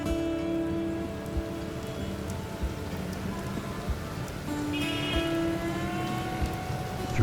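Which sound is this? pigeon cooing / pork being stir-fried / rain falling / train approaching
rain falling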